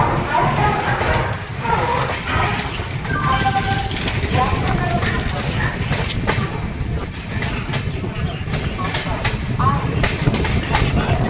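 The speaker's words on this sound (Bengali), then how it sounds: "মধুপুর থেকেও ট্রেন ছেড়ে দিয়েছে" The Howrah–Darbhanga Express rolls out of Madhupur, a steady rumble and rhythmic rattle of wheels and carriages heard from on board, with voices murmuring faintly in the background.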